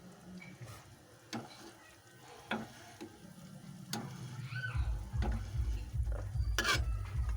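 Meat curry cooks in a pan with occasional sharp clicks of a spoon stirring, then a louder, steady bubbling sizzle builds in the second half.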